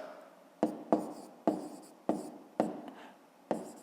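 Pen strokes on paper while a math answer is jotted down, six short separate scratches spaced unevenly over a few seconds, quiet and close with no voices.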